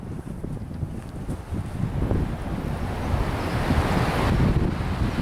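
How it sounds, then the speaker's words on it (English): Strong wind buffets the camera microphone outdoors, a loud, continuous roaring rumble that swells slightly toward the end, with no voices. "you can probably hear on the camera the wind"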